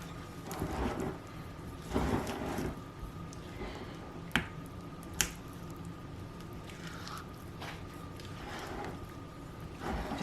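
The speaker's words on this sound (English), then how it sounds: "Just making sure it's all mixed." Spatula stirring cinnamon muffin batter in a bowl, soft wet squishing and scraping strokes in bursts, with a couple of sharp clicks against the bowl, close and fairly quiet.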